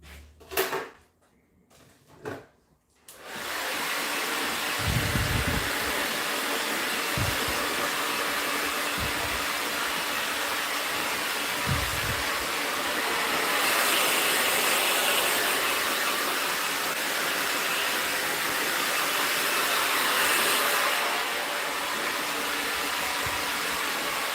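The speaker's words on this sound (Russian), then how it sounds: "Я сейчас тоже беру фен" During a women's asymmetric bob haircut, a hair dryer blows loose cut hair away after a few seconds of quiet rustling, then runs loud and steady for about twenty seconds with slight shifts in airflow pitch.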